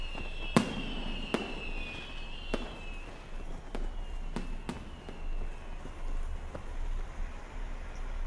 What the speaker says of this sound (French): regardez, il y a des feux d'artifice dans le ciel